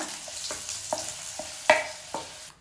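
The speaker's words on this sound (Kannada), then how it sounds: "ಇವಾಗ ಈರುಳ್ಳಿಯನ್ನು ಸ್ವಲ್ಪ ಫ್ರೈ ಮಾಡ್ಕೊಳ್ಳೋಣ" Onion frying in a pan, a quiet, close sizzle broken by a series of distinct scraping taps from stirring, about five strokes spaced unevenly, with no voices.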